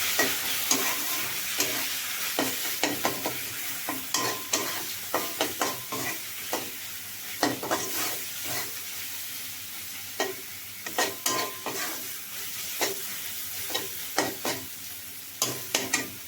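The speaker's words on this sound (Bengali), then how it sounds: "হলুদের গুঁড়া ধনিয়ার গুঁড়া এগুলো ভালো মতন কষিয়ে নিতে হবে" Turmeric and coriander powder are sautéed for a Gulsha Tengra fish curry, with a spoon scraping the pan in a steady series of close strokes over a constant low sizzle.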